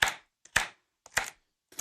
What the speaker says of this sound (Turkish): Şunları da bir zahmet doğrarsan Serpil Hanım çok sevinirim.